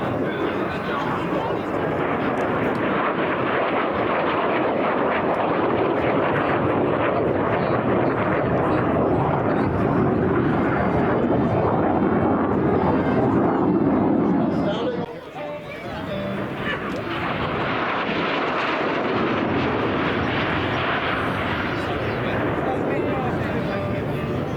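A MiG-17 jet fighter roars past at an Ottawa-Gatineau airshow, a loud sustained rush of engine noise that swells and then eases, with a crowd chattering and an announcer talking beneath it.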